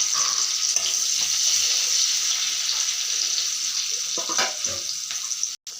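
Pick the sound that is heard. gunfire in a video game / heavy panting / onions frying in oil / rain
onions frying in oil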